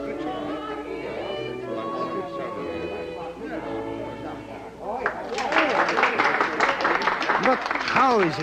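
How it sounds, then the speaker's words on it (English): An audience's applause after a singing performance in an old radio theatre broadcast: a burst of loud clapping swells in partway through after music, continuing strongly to the end. "the storm of applause is not abated"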